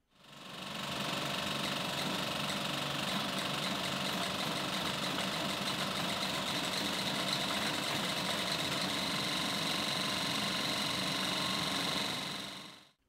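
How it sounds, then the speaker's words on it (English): 35mm film projector running steadily at a selected speed, a continuous loud mechanical whirring and rapid clatter that stays constant for over ten seconds, starting and stopping abruptly, with no talk. "To turn on the projector, you just switch the power switch to the on position. From there, you just move the dial to the desired speed."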